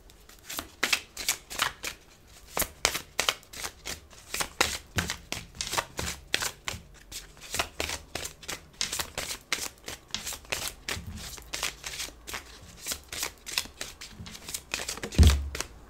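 Tarot cards shuffled by hand in a steady run of crisp, riffling bursts, close and fairly loud, continuing for the whole stretch with a brief low bump at the very end.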